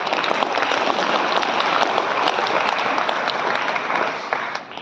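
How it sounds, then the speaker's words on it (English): A school audience at an event in Rewari, India, gives a sustained round of hand clapping, dense and fairly loud, fading toward the end. "A big round of applause again."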